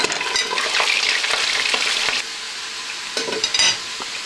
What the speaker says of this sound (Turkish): Soğanım ve havuçum kavruldu